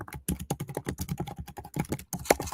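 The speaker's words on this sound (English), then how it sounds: "You can hear my keyboard?" Rapid, steady typing on a computer keyboard, close and crisp, with dense clicking keystrokes throughout and a slight pause before a final burst.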